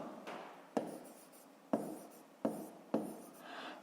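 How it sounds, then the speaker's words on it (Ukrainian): A fraction being written by hand during a maths exercise, giving close, soft scratchy pen strokes broken by four sharp taps as the pen meets the surface, with no speech over it. "пишемо дріб, у нас буде 3 десятих"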